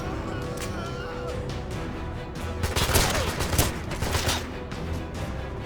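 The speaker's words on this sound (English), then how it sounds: "Who else was shooting at me?" Gunfire rattles in the 007 Legends shooter game, a dense burst of rapid shots in the middle of the clip over constant background game noise.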